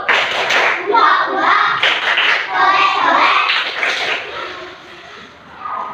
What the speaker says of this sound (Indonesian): Tepuk sambal.